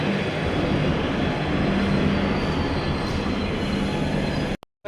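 A passenger train on a journey toward Meghalaya rumbles steadily along the rails with a continuous roar and faint wheel hum, close and loud, before cutting off abruptly at the end.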